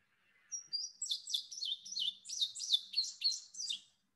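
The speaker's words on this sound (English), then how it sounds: "And then the indigo bunting." An indigo bunting sings a bright, high series of paired sweet notes, a clear rhythmic phrase of about a dozen quick chirps heard alone against silence.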